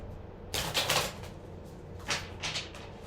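Tarot cards being shuffled in two quick bursts of close riffling and flicking, separated by a brief quiet pause.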